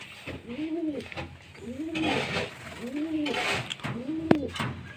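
Domestic pigeons coo close by in a steady series of about four rolling, throaty calls roughly a second apart, with a faint bump near the end, before being syringe-fed sugar-salt water.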